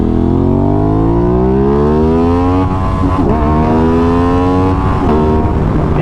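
A 2021 Aprilia RS660 motorcycle engine revs loudly and steadily, its pitch climbing to near the limiter, with a stuttering cut-out as it bounces off the limit over several seconds.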